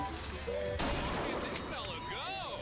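Gun shooting at a carnival shooting gallery in the video game Bioshock Infinite: a sharp blast followed by scattered crackling shots and whooshing tones, moderately loud amid ongoing game sounds.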